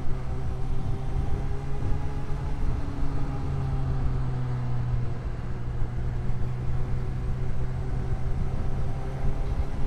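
A Honda CB1000R motorcycle engine runs steadily up close, with droning harmonic tones that shift in pitch as it goes down through the gears, under constant wind rumble.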